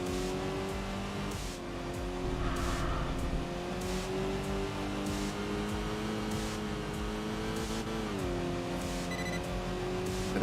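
A Volkswagen Touareg with a supercharged V8 in the racing game Enthusia accelerates out of a hairpin, its engine note droning loudly and steadily with pitch climbing, easing and climbing again, alone with no voices.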